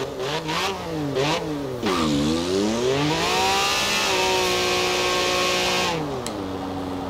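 A video game vehicle engine in Forza Horizon 4, an Alfa Romeo Stelvio Quadrifoglio or Can-Am, revs up and down in pitch, its buzzing drone climbing, dipping, then holding a high steady whine before easing off.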